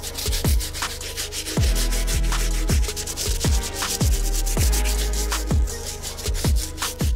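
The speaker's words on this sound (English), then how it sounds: "Now onto the last brush, our stiff bristle brush, so we can clean up these outsoles." A stiff bristle brush scrubs the outsoles of an Air Jordan 13 sneaker in repeated rhythmic strokes, each with a soft thump, loud and close with no talking.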